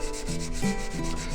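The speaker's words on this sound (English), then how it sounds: "you're filing more material than the edge" A file rasps across the bevel of a Harbor Freight chisel in a few short, rhythmic scraping strokes, close and fairly loud with no voices.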